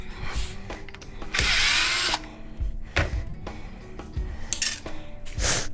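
Power drill whirring in short bursts while backing stainless steel screws out of an aluminum and glass shower door frame, with metallic clinks and rattles between runs, close up.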